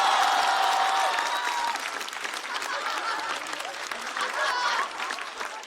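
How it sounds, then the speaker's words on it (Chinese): Audience applause rings out in a TV variety show studio after a contestant's performance, steady and full for several seconds before easing slightly, with a brief swell near the end. "掌声再次送给阿水。"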